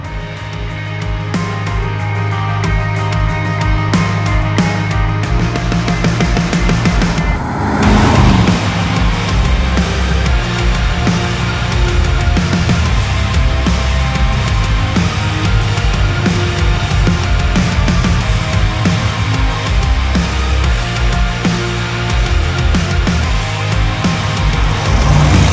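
A 1964 Mercury Marauder Park Lane on a hot lap gives a continuous, loud engine drone with a deep steady hum, heard from inside the car without a pause.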